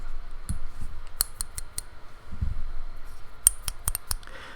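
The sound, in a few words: plastic chess pieces knocking together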